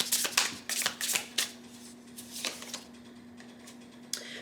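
Tarot cards are shuffled in quick riffling bursts of papery flicks, then fewer, softer card snaps as three are drawn, close and quiet with no talking.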